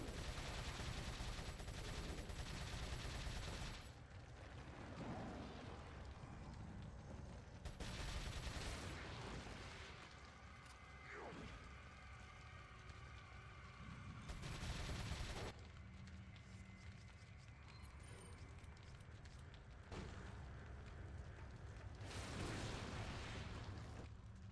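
Video game combat with dense rapid gunfire and booming grenade blasts, loud and continuous with heavy bursts at intervals.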